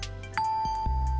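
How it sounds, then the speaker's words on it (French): A single bright metallic glockenspiel bar note rings out clearly with a sustained pure tone over a low background hum. "voici un son d'une lame de glockenspiel."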